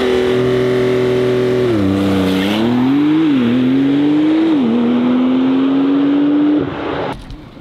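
A Python green Porsche 911 992 Turbo S with 650 horsepower accelerates hard in a straight line, its loud engine note climbing through several gear changes before cutting off abruptly near the end.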